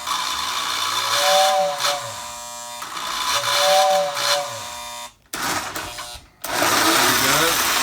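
A Lionel toy steam locomotive runs close by with a buzzing electric motor and repeated whistle blasts in a rising-falling pattern, broken by brief pauses and dropouts.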